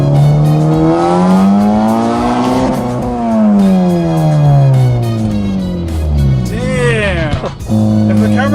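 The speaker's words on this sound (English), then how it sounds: "We're gonna do a little pull in first gear here in a second." A Honda Civic Si accelerating hard in first gear, its engine note climbing steadily and loudly in pitch, easing briefly, then rising again up to a sharp cut near the end; a voice speaks over the engine.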